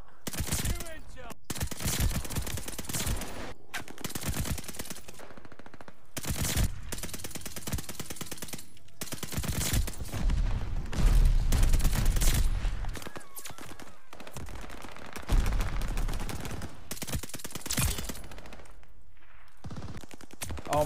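An MP40 submachine gun fires in Warzone, repeated loud rapid bursts with short gaps between them, and someone talks in between.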